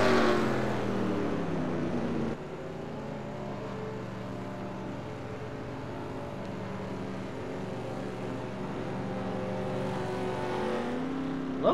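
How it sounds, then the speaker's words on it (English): Race cars during pit stops at a Bristol heat race, a continuous engine drone with steady harmonic tones, rising slightly at the end, heard from some distance with no talk. "We'll go ahead and watch the pit stops"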